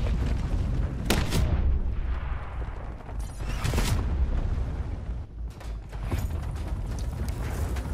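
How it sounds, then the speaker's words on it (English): Hellstorm missile strikes in Call of Duty Black Ops 4 arrive as several heavy booms over a constant loud battle rumble, with mechanical clatter and rattling between the blasts. "Requesting Hellstorm deployment."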